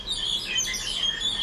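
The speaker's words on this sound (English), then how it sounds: "They're so excited, those birds." Birds chirp and tweet in a rapid, continuous chatter at moderate volume, heard alone in a condo setting in Chiang Mai.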